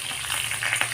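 A bay leaf frying in hot oil gives a steady, close sizzle with soft crackles throughout, no voices.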